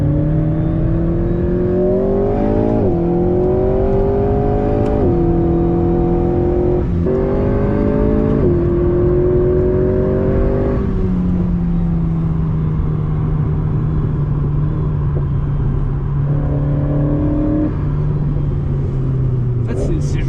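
A front-wheel-drive car lapping a race track at Vaison, its engine droning and revving through repeated rising pulls and gear changes, then settling into a lower steady hum, loud and close from inside, with occasional voices.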